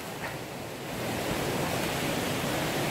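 Waterfall in a mountain forest gorge, a broad steady rushing roar of falling water that swells slightly louder after the first second, close and continuous with no voices.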